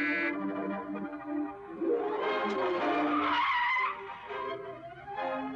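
A car in a chase scene from a 1947 Swedish film accelerates with tires squealing and skidding, a wavering high screech rising and falling over engine noise, fairly loud and close.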